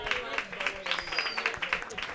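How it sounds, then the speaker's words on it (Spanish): Audience applause at a live show, a crowd's scattered clapping pattering along under a person talking over it. "un aplauso para Mary."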